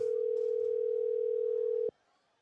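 A steady telephone dial tone sounds loud and close while a call is being placed, holding for almost two seconds before cutting off abruptly into near silence.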